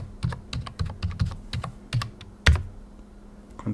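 Password keys tapped on a computer keyboard during an Arch Linux install in VirtualBox: a quick, irregular run of close, crisp clicks with brief pauses, heard alone without talk.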